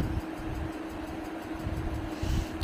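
Train pulling away on an overnight journey toward Vellore, a steady low rumble and hum from inside the carriage, moderately loud and continuous, with no talk.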